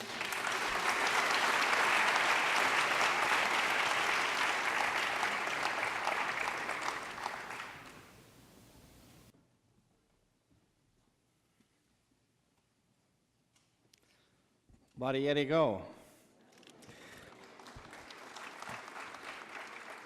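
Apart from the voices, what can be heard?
audience applause at commemorative event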